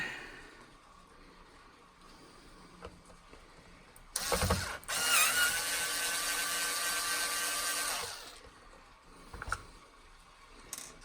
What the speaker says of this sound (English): I just need to put the screws back in.